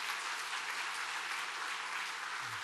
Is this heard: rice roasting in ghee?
no